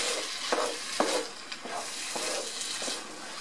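Spanish rice stirred in a hot pan, a soft sizzle with a few distinct scraping strokes of the spoon, close and fairly quiet.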